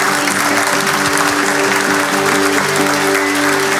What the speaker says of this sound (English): आप लोग तालियां बजाएं।